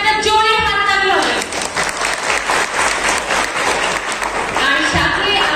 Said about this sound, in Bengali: সবার জন্য একটা জোরে হাত তালি হবে